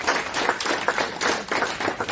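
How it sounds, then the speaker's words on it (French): An audience at a morning talk on meetings between people and cultures claps in a dense, fairly loud burst of applause that carries on evenly across the whole moment. "je voudrais qu'on puisse fortement applaudir Jean-Pierre"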